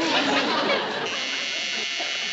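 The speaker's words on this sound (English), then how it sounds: "It's a timer on the washing machine." A washing machine timer buzzer sounds as a steady, loud electric buzz inside a sitcom home, starting over brief background chatter and holding on alone for about two seconds.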